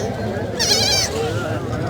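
A goat bleats once, with a wavering cry rising above steady background chatter at a livestock market in Karachi.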